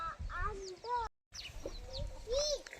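Hens in a village chicken coop clucking and calling in short, repeated bursts, close by, with a brief silent gap in the middle.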